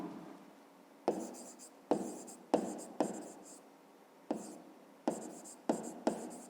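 Pen writing on paper in a fifth-grade maths exercise, heard as close, faint scratchy strokes in short bursts with quiet pauses between them.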